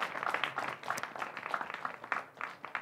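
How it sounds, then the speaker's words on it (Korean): A congregation claps during a church sermon, in soft, uneven bursts of overlapping hand claps that rise and dip, fairly distant and quiet. "박수 한번 해줘요"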